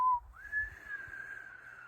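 A person whistles a short tune imitating the wind: a brief high note, then a long sustained whistle that slides gently downward, clear and close with no talk.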